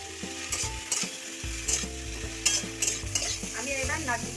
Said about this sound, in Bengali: আমি এবার নাড়িয়ে দিচ্ছি কপিটা।